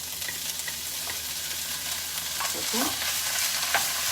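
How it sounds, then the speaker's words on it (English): Leftover taco meat stirred and frying in a pan, a steady broadband sizzle with scraping stirs of a utensil, a brief spoken word over it. "So I'm just going to add my taco meat in there."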